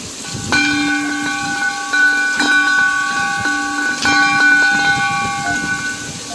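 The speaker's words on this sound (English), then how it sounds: "He takes in old fire extinguisher tanks and turning them into bells so you can get this." A bell made from an old fire extinguisher tank is struck three times at an outdoor day-trip event, each loud, close clang ringing on with bright, sustained overlapping tones.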